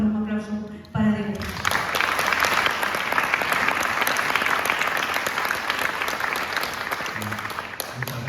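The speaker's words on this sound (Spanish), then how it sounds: "un aplauso para Diego." An audience gives an author a sustained round of applause at a talk. The clapping is full and continuous, with a voice heard briefly before it starts and again near the end.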